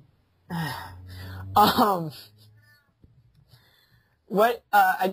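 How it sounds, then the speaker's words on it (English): A cat meows several times, short rising cries in two bursts separated by a quiet pause, fairly close. "Ignore my cat if you can hear him."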